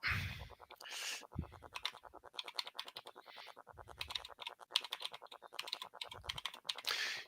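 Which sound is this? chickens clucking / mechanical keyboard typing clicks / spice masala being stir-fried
mechanical keyboard typing clicks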